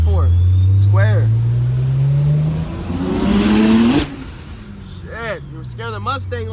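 A 700-horsepower BMW 335i with a manual gearbox pulls hard on a Los Angeles street, its engine note climbing steeply through a gear, then easing off, with passengers chattering over the loud, close cabin roar.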